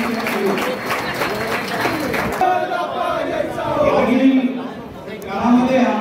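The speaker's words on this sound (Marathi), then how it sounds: "सर्वांनी टाळ्या त्यांचं अभिनंदन" A political rally crowd applauds the announcement of Hemant Godse as Nashik Lok Sabha candidate, with sustained clapping and crowd noise filling the space while an amplified voice speaks over it.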